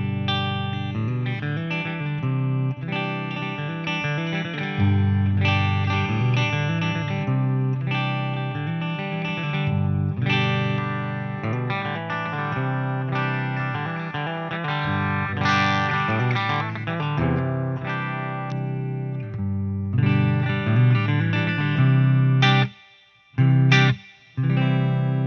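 An Epiphone 1959 Les Paul electric guitar on a clean tone playing ninth chords, rich ringing strummed chords in an unhurried sequence, close and full, with a few brief gaps near the end.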